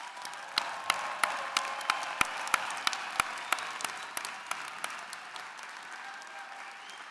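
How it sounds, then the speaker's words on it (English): Applause for graduates at a university commencement in a large hall, faint and distant, with a series of sharp, spaced claps standing out over a soft wash of crowd clapping that thins toward the end. "please join me in giving them another round of applause"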